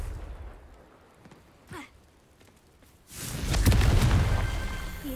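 A Confringo blasting spell goes off in Hogwarts Legacy, a brief whoosh followed by a loud, broad explosive burst that swells and lingers, with no voices over it.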